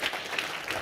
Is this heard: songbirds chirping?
no